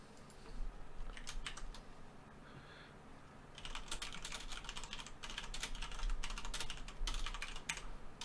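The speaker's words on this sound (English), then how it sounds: "Failing at typing today." Fingers tap quickly on a computer keyboard in faint, soft bursts of clicks, pausing briefly before another busy run of keystrokes.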